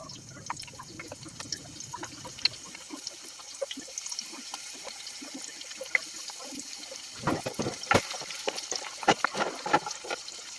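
Onions hit a hot pan of olive oil and sizzle close by, a soft, crackling spatter of small pops that grows busier and sharper toward the end.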